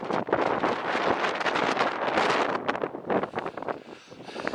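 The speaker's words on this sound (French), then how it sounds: "En plus, il y a un vent terrible et il fait froid." Strong, cold wind buffets the microphone on an uphill mountain scree path, a loud continuous roar with gusty rustling surges and no talk.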